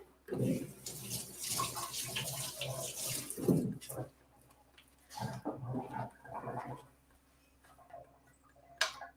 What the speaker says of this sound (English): Run it under some water.